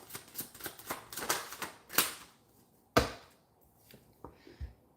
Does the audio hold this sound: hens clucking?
no